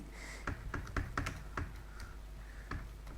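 Keys tapped on a computer keyboard, a run of crisp, separate clicks at an uneven pace, close and moderately quiet, with no voices.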